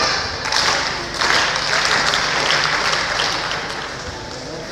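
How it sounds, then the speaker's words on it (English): An audience at a youth unity gathering in the Benin zone claps together in a dense, sustained burst of applause that fills the whole stretch, loud and close, with no talking over it. "Then we'll now do the locomotive clap of that."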